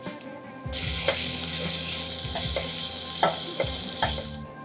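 Dried red chillies crackle in hot tempering oil with cumin, mustard seeds, curry leaves, turmeric and asafoetida for majjige huli. A loud, steady sizzle starts suddenly and holds throughout, broken by a few sharp pops and spatters, with no talking.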